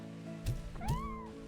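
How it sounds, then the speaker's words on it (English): Slimes in Slime Rancher 2 give two short, close, cat-like meows about half a second apart, rising then falling in pitch, over a quiet, soft game background tone. "Oh, they meow. How cute."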